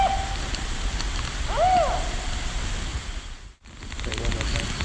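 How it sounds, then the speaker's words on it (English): A played recording of a spotted owl gives a short tonal call and then one clear, rising-falling hoot over a noisy, hissing background, fairly faint. "And this is a spotted owl."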